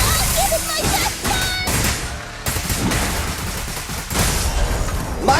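Gunfire in the Zenless Zone Zero video game rings out in loud, sharp bursts and rattling volleys. A character's voice speaks over parts of the action.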